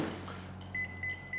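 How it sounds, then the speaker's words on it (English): Microwave running in a cooking video game while double smoked bacon heats, a steady low hum with a few short, evenly spaced electronic beeps. "take your double smoked bacon and head into the microwave"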